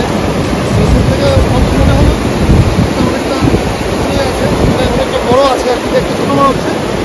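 Strong current of the Teesta river in North Sikkim, a steady, loud rushing roar of water with wind buffeting the microphone throughout.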